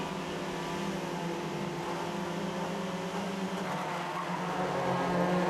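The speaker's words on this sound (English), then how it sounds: "Away they blast. We go racing with a good start made by Flitney from the middle of the front row" Swifts race cars starting a race, a dense, sustained roar of many engines revving together at close range that builds slightly toward the end, loud and continuous without a break.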